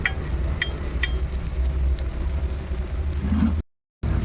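A chicken burger patty sizzles gently in a pan on low heat, giving a soft, steady frying crackle with a few faint pops before a brief cut to silence.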